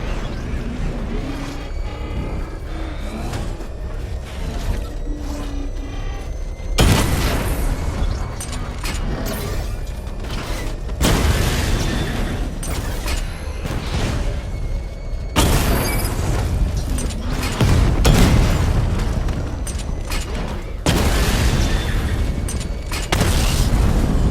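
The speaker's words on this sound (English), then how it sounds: "Charge up missile barrage to level 2 and destroy 4 active targets to complete diagnostic test." Missile barrage explosions from Batman: Arkham Knight, a video game, land as a series of loud, heavy booming bursts roughly every few seconds over a steady rumbling game soundtrack.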